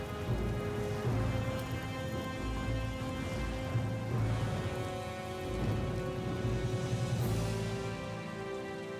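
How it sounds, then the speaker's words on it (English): Rain and a thunderstorm from the video game Layton vs. Ace Attorney: a steady, dense wash of rainfall with a low rumble of thunder underneath, mixed with sustained tonal game music throughout. "a thunderstorm on the way, and as the storm drew nearer"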